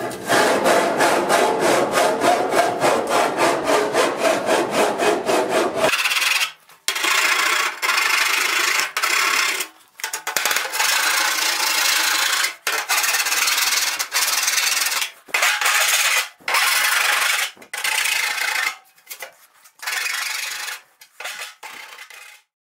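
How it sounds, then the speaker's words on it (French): Metal file rasping over the cut edge of a zinc gutter to clean off burrs, steady close scraping strokes, dense at first and then in short repeated bursts with brief gaps. "Il faut bien nettoyer avec la lime pour avoir quelque chose de propre."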